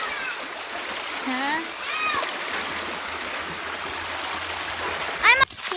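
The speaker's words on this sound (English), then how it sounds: "So this is the creek." Creek water runs steadily through the woods, a continuous broadband rush heard under a voice and playful chatter, with a brief splash near the end.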